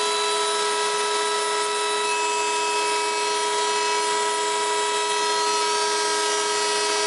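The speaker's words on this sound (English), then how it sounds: "I used this 3/8 inch quarter round bit" A steady, high-pitched router whine runs continuously, a 3/8 inch quarter round bit cutting wood, with strong sustained tones and little variation.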